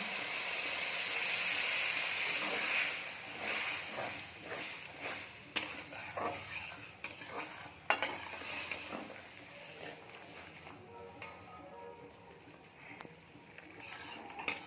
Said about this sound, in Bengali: আমরা ভালো করে কিছুক্ষণ সময় ফুটিয়ে নিই